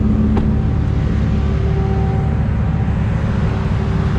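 Cars lined up and idling at a traffic light, heard from inside an SRT Hellcat, a steady low engine and road rumble that holds evenly throughout with no voices.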